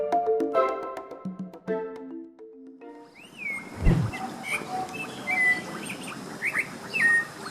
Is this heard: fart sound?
no